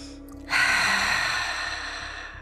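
A deep breath during a yoga posture exercise, a soft airy inhale or exhale rising suddenly after a brief quiet moment and slowly fading, close and alone.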